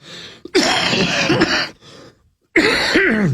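Two harsh, drawn-out coughs with a throaty rasp, loud and close, separated by a brief silence.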